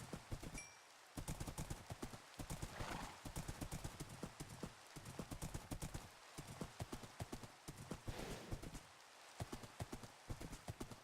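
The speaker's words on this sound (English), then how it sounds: "this horse is really quick" A horse gallops steadily in the video game The Lost Kingdom, its hoofbeats a quick, even clip-clop rhythm that runs almost the whole time, fairly quiet and with brief pauses.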